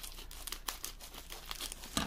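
Wrapped canvas package being opened: quiet, close crinkling and tearing of wrapping in quick irregular bursts, with no voices.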